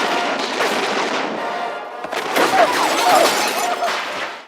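A dense, loud volley of gunfire cracks and booms continuously in a western film scene, overlapping into a sustained barrage with some shattering.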